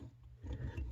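Small Lego Transformers Streetwise ratchet joint clicking as the part folds down, a short burst of soft plastic ratcheting close up with no talk.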